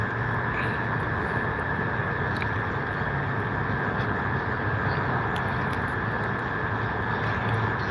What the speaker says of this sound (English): Virgin Australia taxiing down to runway 32.